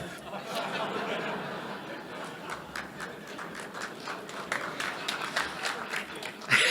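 A gala audience at a Japan-America Society of Indiana event claps in sustained applause, many hands at a distance, with scattered chuckles and murmured chatter underneath.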